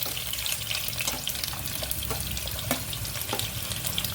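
Mustard and fenugreek seeds with ginger, garlic, green chili and onion frying in hot oil for a fish curry, giving a steady close sizzle with occasional scraping stirs and light clinks throughout.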